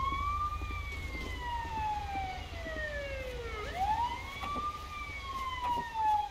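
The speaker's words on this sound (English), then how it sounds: "Ambulance has arrived on scene" Ambulance siren in the GTA V LSPDFR police mod, a loud wailing tone sweeping down then rising again, steady over low engine rumble with no talking.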